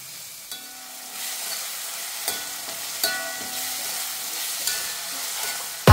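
Pork being sautéed with a pinch of salt in a pan, sizzling steadily with soft periodic stirring scrapes, close and continuous.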